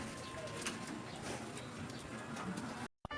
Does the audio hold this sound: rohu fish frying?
no